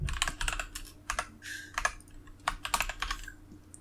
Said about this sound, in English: I hear that spicy mechanical keyboard right there.